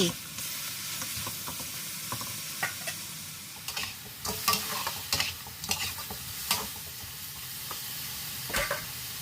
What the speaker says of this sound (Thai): ผัดไปเรื่อยๆให้ไก่กับเครื่องแกงเข้ากันดี